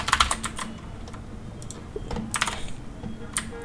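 Rapid bursts of typing on a computer keyboard, clustered clicks with short pauses between, close and crisp with no voices.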